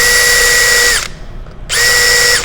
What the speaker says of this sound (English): So I'm just gonna pop that hinge in place, drill my holes, and screw it in.